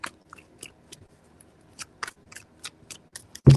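Tarot cards being shuffled by hand, a series of short crisp riffling snaps spaced irregularly, ending with a louder flurry, close and without talk.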